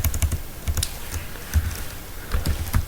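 Fingers type on a computer keyboard while writing Python code, a close, steady run of quick key clicks in uneven bursts with short pauses, loud and clear with no voice over it.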